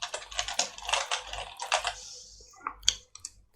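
Bursts of typing on a computer keyboard while writing Kotlin code for a calculator program, quick irregular key clicks in clusters with short pauses, close and fairly quiet, no talking.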